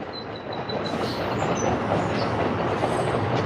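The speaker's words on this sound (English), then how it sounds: "gotta let that train pass." A train rolls past close by with a loud, steady rumble and rattle of wheels on rails, with faint high squeals above it, holding constant for several seconds.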